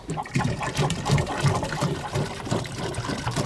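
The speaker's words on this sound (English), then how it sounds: "we're going to fill the same equal amount of water into this container" Water pours steadily into a 5-liter container, a continuous splashing gush that carries on throughout at close range.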